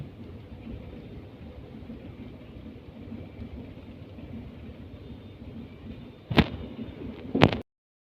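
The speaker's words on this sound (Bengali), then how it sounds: "বাইরে তো সমানে বৃষ্টি হচ্ছে" Steady, dense hiss of heavy rain falling outdoors, constant throughout, with a couple of sharp louder bursts near the end.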